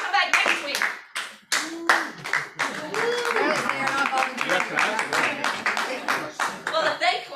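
An audience at a real estate investing talk claps for several seconds, a dense patter of many hands that swells and fades, mixed with voices and a little talk over it.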